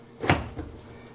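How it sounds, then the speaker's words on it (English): A GE dryer door is lifted off its hinges with one short, sharp clunk followed by a softer knock, then quiet. "And this door we lift up,"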